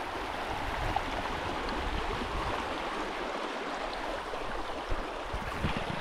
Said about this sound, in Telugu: ఇది కొంచెం లోతు చూడండి, ఎంత ఫోర్స్గా అయితే వస్తున్నాయి వాటరు.